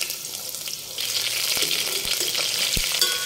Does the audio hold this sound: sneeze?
no